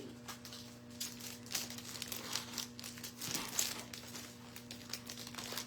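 Paper packaging from a card-making suite crinkles and rustles as it is opened, in soft, close, intermittent bursts over a low steady hum.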